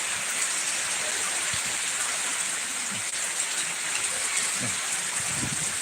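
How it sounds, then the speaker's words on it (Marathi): Heavy monsoon rain pours down in a steady, unbroken hiss, fairly close and even in loudness throughout, with no voices over it. "किती जोरदार पाऊस चालू झाला आहे"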